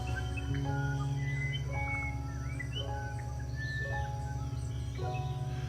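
Birds twitter and chirp in short repeated phrases over a steady low hum, the calls fairly close and overlapping throughout.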